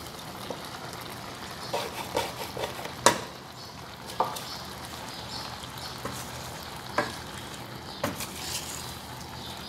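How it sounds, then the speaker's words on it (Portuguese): Shrimp stroganoff with mushrooms and cream being stirred gently in a pan, a soft steady sizzle with scattered light scrapes and taps of the utensil against the pan. "Sempre mexendo com delicadeza para não quebrar o camarão."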